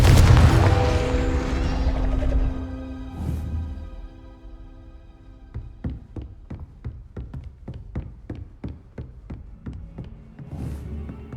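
A Confringo fire spell bursts in Hogwarts Legacy with a loud booming explosion that rumbles away, followed by a run of sharp rhythmic tapping impacts and a second softer blast near the end.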